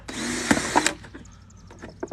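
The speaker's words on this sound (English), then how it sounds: "So again, I'm just drilling holes at the bottom" A power drill whirs steadily for under a second as it bores holes into the bottom of a plastic drink container being made into a self-watering planter, followed by sharp plastic clicks and handling knocks.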